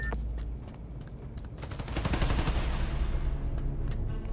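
Continuous gunfire from a crowd of enemies in the Spider-Man: Miles Morales video game, a dense rattling volley that swells louder midway and stays heavy to the end, with no talking over it.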